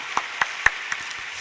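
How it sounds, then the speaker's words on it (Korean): A church congregation gives slow, scattered applause after a sermon: a handful of distinct claps at irregular intervals, fading toward the end. "우리 하나님께 감사와 영광의 박수 올려드립니다"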